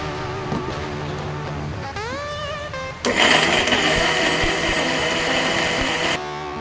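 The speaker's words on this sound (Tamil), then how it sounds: "ஒரு பூண்டு போட்டு 2 அரை அரைச்சி ஆஃப் பண்ணிவிடுங்க" A mixer grinder grinds garlic into a greens spice powder, starting with a rising motor whine that turns into a loud, harsh, steady grinding roar for a few seconds, then cuts off abruptly.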